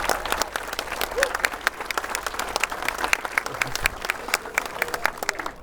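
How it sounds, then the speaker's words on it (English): Wedding guests applauding the bridesmaids in a steady, moderately loud burst of many hands clapping that lasts throughout, with crowd murmur underneath. "so please give them a round of applause"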